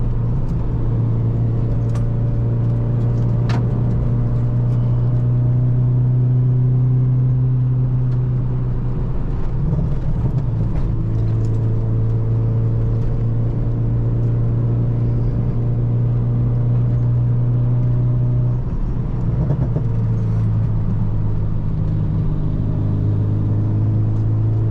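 Acura RSX Type S with a stage 4 clutch and limited-slip differential, its engine droning steadily and rising as it pulls through turns, heard from inside the cabin with no voices.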